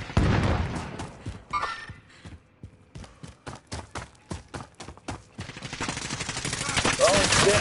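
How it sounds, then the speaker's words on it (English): Video game gunfire striking the player: a loud opening burst, then a string of spaced, punchy shots in an uneven rhythm, building back into continuous noise at the end. "Oh, shit, I'm getting shot in the back."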